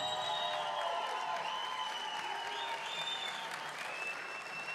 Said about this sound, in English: How about a round of applause for these two?